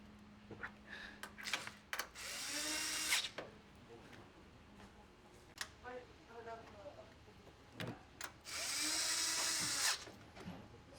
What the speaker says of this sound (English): And then we're ready to tighten down the 2 corners with our 10mm bolts.